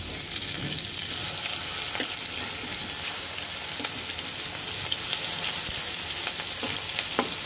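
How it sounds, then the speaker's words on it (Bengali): Ash gourd leaf fritters coated in a mustard batter frying in hot oil, a continuous close sizzle and bubbling hiss with a few soft clicks of turning, and no voices. "এখন আমরা একে একে এখানে বড়াগুলো ভেজে নেব।"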